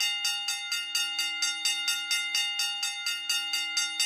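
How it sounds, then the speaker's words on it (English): A bell rings on and on in a rapid, even pulse, loud and close, with a bright, sustained metallic ring and no voices over it, heard during a live horse racing broadcast. "There's that bell again."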